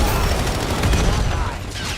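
Dense, continuous gunfire in the video game Syndicate, loud rapid shots blending into a steady crackling roar from start to finish.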